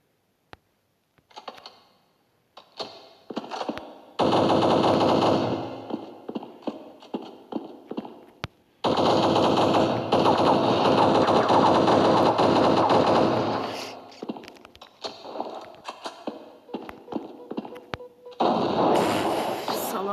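Gunfire from the Counter-Strike video game comes in repeated dense bursts, loud and sustained for several seconds at a time. Sharper isolated shots and clicks fall between the bursts, and faint voices are heard.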